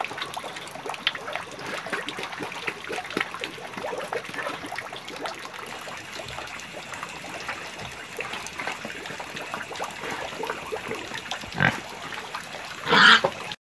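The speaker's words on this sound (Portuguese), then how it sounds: "Vamos ver mais um pouquinho dos porquinhos comendo." Pigs on a small farm eating feed, with continuous wet chewing, slurping and snuffling close by, a steady busy texture and a brief louder grunt near the end.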